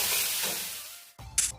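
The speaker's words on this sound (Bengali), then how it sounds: "শাকটা এবারে খুব ভালোভাবে ভেজে নেব।" Mixed greens with brinjal fry in a pan, giving a soft, steady hiss that fades out, then a brief louder sizzling burst, heard close with no voices.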